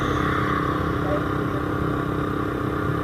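A motorcycle carrying a passenger climbs an unpaved road, its engine droning steadily and close throughout while a rider talks over the noise.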